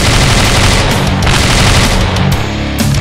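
Rapid automatic gunfire from a weapon in Slendytubbies: 2D Revolution, a loud, dense, continuous stream of shots with booming low impacts running the full length without a break.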